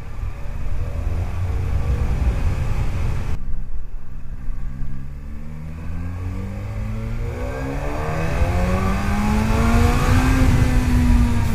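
A Kawasaki H2R supercharged motorcycle accelerates on the road, its engine note climbing steadily in pitch through the gears as it pulls harder, loud and close, with heavy rumble and wind noise and no talking.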